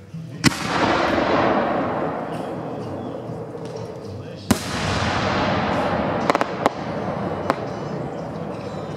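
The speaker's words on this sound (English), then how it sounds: "We have one last Vulcan premium shell here." A Vulcan premium firework shell launches with a sharp thump and bursts, and its crackling rumble fills the air before a second loud boom and scattered pops follow outdoors.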